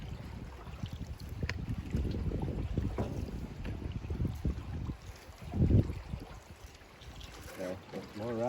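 Canoe moving through river rapids, with rushing water and wind buffeting the microphone, the broadband wash swelling and easing. Voices talk over it now and then.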